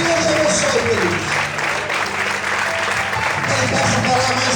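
Church congregation applauding during a service, dense sustained clapping with a voice speaking over it and a low tonal hum underneath.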